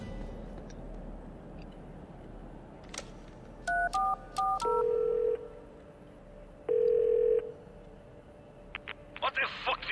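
In The Darkness video game, a phone is dialled: a quick run of distinct tone beeps, then two longer steady tones. Game ambience and background noise continue throughout, with faint voices at the end.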